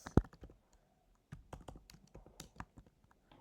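Keys clatter on a computer keyboard in short bursts of close, crisp clicks, a quick pair of taps followed after a pause by a steady run of keystrokes while someone enters text into statistics software.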